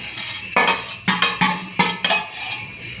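A pot of dal being taken off the stove in a home kitchen, a sequence of five or six sharp metallic clanks and scrapes of cookware spaced unevenly, close and fairly loud, with no talk.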